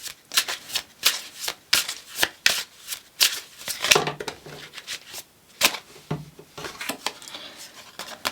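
A deck of oracle cards being shuffled by hand, close and crisp, with quick repeated riffling bursts and brief pauses between them, no talking.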